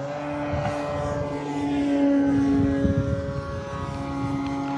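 A PT-17 Stearman RC model biplane with a 1600 mm wingspan drones steadily overhead in spring, its engine tone rising and falling slightly as it flies aerobatic manoeuvres, heard alone at moderate distance.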